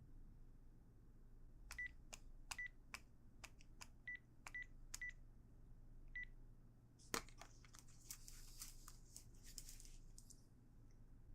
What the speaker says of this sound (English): George, please pick up the phone.